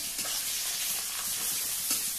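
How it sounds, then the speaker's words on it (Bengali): Fish sizzles and crackles in hot oil, a dense, steady hiss with small pops throughout, close by and fairly loud. "তো 3 পিস ভাজা হচ্ছে।"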